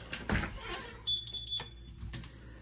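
A short series of rapid high electronic alarm beeps rises briefly inside a car, faint over low rumble and soft handling noise, then stops.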